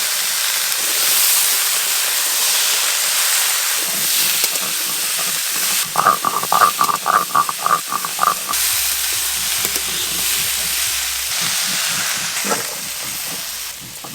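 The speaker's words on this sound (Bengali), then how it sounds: "সবজিগুলো ভাজা হয়ে গেছে" Winter vegetables and pumpkin fry in a pan for vegetarian khichuri, with a steady close hiss and sizzle throughout, broken midway by a run of quick rhythmic scraping stirs.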